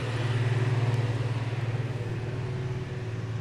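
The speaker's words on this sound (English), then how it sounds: "wait for old mate to go past his garbage truck." A garbage truck drives past nearby, its steady low engine rumble and drone loud and continuous throughout, with no talking.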